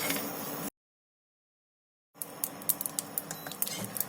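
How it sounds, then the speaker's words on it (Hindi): Mustard seeds crackle and pop in hot coconut oil in a pan, a close run of sharp irregular snaps and sputters that follows a brief gap of silence. "हमारे राई के दाने चटकने लगे हैं।"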